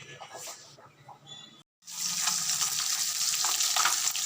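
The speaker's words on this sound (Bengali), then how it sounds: "মাছ ভাজা হচ্ছে মাছগুলো বেশ লাল লাল করে ভেজে নেবো মাছগুলো" Continuous sizzling of fish frying in oil, briefly cut off by a moment of silence, then returning louder and steadier with some faint clatter.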